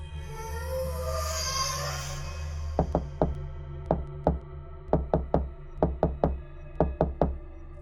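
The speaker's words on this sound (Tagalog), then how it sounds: "kumatok ng malakas dahil tulog ng mga tao sa oras na yon." Loud knocking on a wooden door as a sound effect in a nighttime horror story, starting with two knocks and then repeating in quick pairs and triplets of sharp raps, close and clear over a low background drone.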